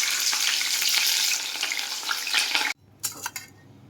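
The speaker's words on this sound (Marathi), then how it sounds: "आता आपण मिरची तळून घेऊ." Green chillies frying in hot oil: a loud, dense, crackling sizzle that cuts off abruptly near the end, followed by a few quieter spits and clinks.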